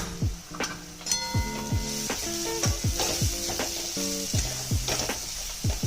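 Garam masala, turmeric and red chili powder fry in a pan for pav bhaji, a steady sizzle broken by repeated ringing clinks of a utensil against the pan as it is stirred.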